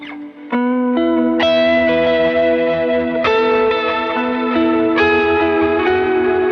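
An electric guitar rings out sustained chords and notes through a warbling, pitch-wobbling effect, giving a washed-out, lo-fi chorus-like tone.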